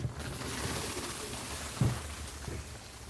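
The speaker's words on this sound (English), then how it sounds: "So you can hear the birds." Soft cooing bird calls, a few scattered notes over a steady low outdoor rumble, moderately distant.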